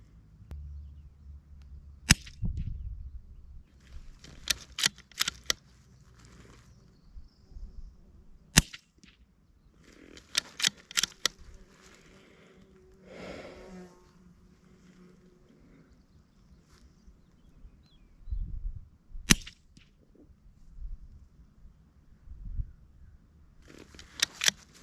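Shots from a Custom-Silence Adamantium suppressed rifle fired outdoors ring out as a string of sharp, short cracks at uneven intervals, some single and some in quick pairs, with quiet pauses between them.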